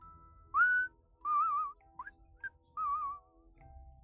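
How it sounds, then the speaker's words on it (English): A few whistled notes, some rising and some wavering, sound in short, separate phrases with brief gaps between them, clear and fairly close against a quiet background. "A whistle."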